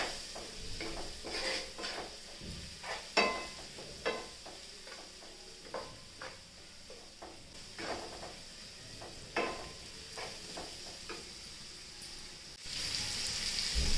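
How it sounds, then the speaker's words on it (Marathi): Tomatoes and coriander sautéing in a pan, with quiet scattered clinks and scrapes of stirring over a soft sizzle that swells into a louder, steady hiss at the end. "टोमॅटो घालून घ्यायचं कोथिंबीर घालून घ्यायची चांगलं परतून घ्यायचं"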